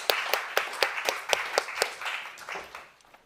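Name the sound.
audience applause for panelists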